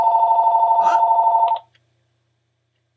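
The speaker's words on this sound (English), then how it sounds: "there's a phone call" A telephone bell rings in a rapid trilling burst for about a second and a half, then stops abruptly as a voice briefly exclaims.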